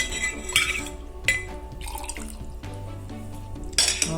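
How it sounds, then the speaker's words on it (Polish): Water is poured into a glass holding thick homemade sour cream, giving short splashy liquid pours and drips with a few clinks of the glass, close and fairly clear. "do tego, żeby się lepiej rozmieszało, wlewamy sobie trochę wody"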